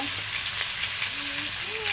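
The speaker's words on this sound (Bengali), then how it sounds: "রসুনগুলো লাল লাল করে ভেজে নিয়েছি" Garlic fries in a pan until reddish for a fish and helencha greens curry, giving a steady close sizzle and crackle that runs without a break.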